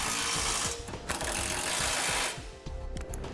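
A ratchet turns in a quick series of clicks while the bolts of a Curt trailer hitch receiver are snugged down, close up and steady, then pausing briefly before resuming.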